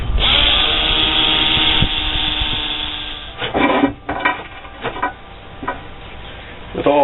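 A power drill spins a knife pin held against 50 grit sandpaper, giving a steady close whirring grind for a few seconds, then several short bursts of scraping rub as the pressure shifts.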